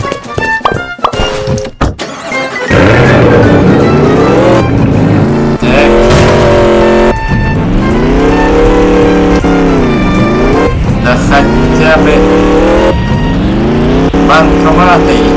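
Chevrolet Camaro engine in a video game, loud and continuous, revving up and down in repeated sweeping pitch rises and falls as the car drives, with a brief muffled thump near the start before the engine takes over.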